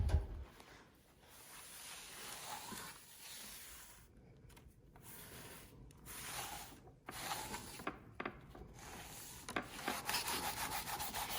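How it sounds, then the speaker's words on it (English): A damp sponge scrubs dried clay off a canvas work surface in quiet, uneven bursts of rubbing and scraping that grow steadier and a little louder toward the end, with no talking. "you'll want to scrub and try and get all of the clay off of the canvas"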